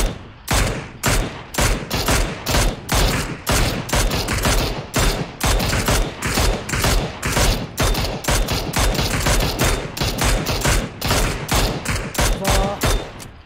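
Rapid bursts of automatic gunfire from a player's weapon in a squad battle-royale shooter game, loud and near, firing in repeated volleys with short gaps throughout, with a faint voice now and then.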